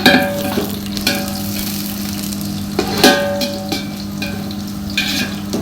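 Onions sizzle loudly in hot oil, sautéed for beef biryani, with a spatula scraping and stirring at intervals; no voices, just the continuous crackle of frying.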